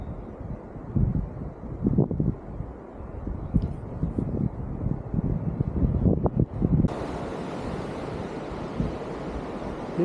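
Strong wind gusts roar and buffet across a snowy mountain during a blizzard on Kings Peak, a loud rushing broadband noise with irregular surges, steadying into a constant hiss near the end.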